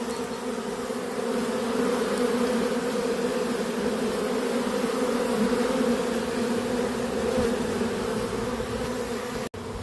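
A honeybee swarm being caught hums with a steady, dense drone of many bees close by, continuous and unbroken for the whole stretch, with no voices over it.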